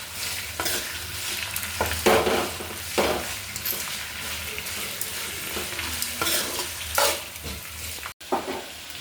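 Mint leaves stirred into frying tomato chutney in a pan, a steady close sizzle with repeated scraping strokes of the spoon across the pan, alone without talk.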